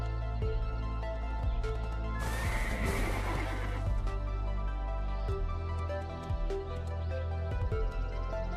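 A horse in the Black Desert video game neighs in a loud, drawn-out whinny over a steady droning game soundtrack with occasional hoof clops.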